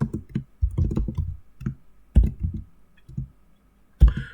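Typing on a computer keyboard close up, with irregular bursts of crisp key clicks separated by short pauses and a final sharp click.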